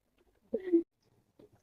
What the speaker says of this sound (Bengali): তো এখন জাস্ট কবুতর গুলো দেখানোর পালা